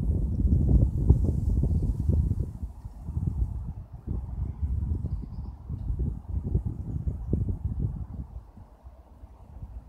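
Low, uneven wind rumble buffeting a phone microphone near the Severn Bridge and Aust Ferry, fairly quiet and fluctuating in gusts over several seconds.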